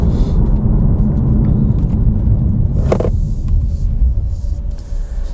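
A BMW M2 Competition on road-oriented tyres is driven on a slightly damp road, giving a loud, steady low cabin rumble with engine drone and a brief knock partway through, and no talking.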